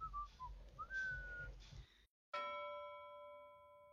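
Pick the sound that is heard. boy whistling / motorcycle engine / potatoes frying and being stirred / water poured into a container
boy whistling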